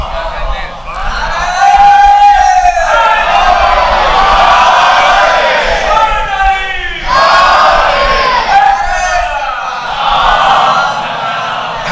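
A large crowd at a Muharram majlis in an imambargah roars back the Nara-e-Haidari slogan, loud sustained shouting in repeated surges with overlapping voices.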